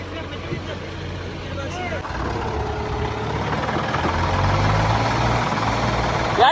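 A heavily loaded tractor strains in a pulling race, its engine droning and knocking at a distance and gradually swelling louder, with people talking over the noise.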